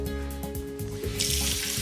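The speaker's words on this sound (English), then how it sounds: "Now I'm going to get some really hot tap water." Really hot water from a kitchen tap starts running partway through, a steady close rushing hiss over low background hum and faint clatter.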